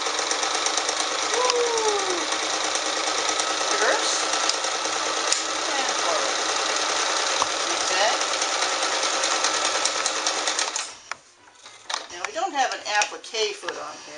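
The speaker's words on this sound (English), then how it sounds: "Let's just sew some basic Oxford cloth here." Kenmore 158.10301 sewing machine stitching basic Oxford cloth, a steady close mechanical whir with rapid needle chatter running for about eleven seconds before stopping, followed by brief handling clicks and rustles.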